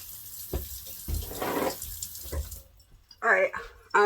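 Cold water runs from a tap into a sink in short bursts, splashing close and loud between pauses, with a clink of items near the end and no talk.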